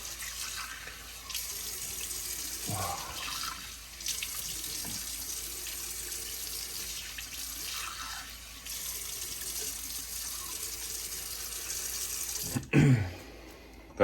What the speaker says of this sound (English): Now I'm going to go in for a cold water rinse.